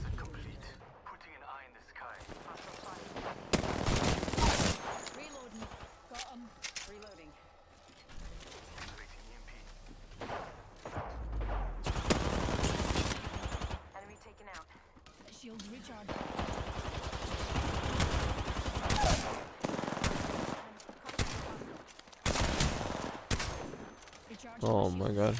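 Rapid gunfire from the Apex Legends battle royale game, with repeated bursts and single shots close and loud through most of the stretch, mixed with weapon mechanisms and impacts while a player talks over the action.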